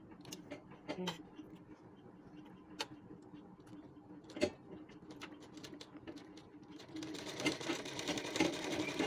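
A sewing machine runs in bursts, stitching fabric back and forth while assembling garment parts. The rattling mechanical whir is close, quiet and irregular, with a few sharp clicks and a steadier run toward the end.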